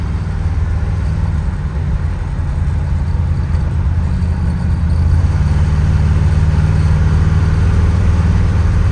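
A 1970 Chevrolet Nova cruises down the road, its engine a steady low drone with continuous road rumble, loud and close from inside the car, no voices.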